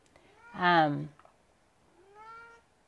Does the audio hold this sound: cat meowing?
yes